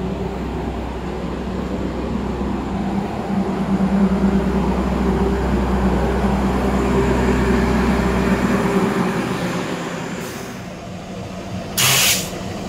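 An Argo Cirebon passenger train pulls away toward Tegal, its low rumble and rolling wheel noise steady and loud for most of the stretch before easing off, with a brief sharper hiss near the end.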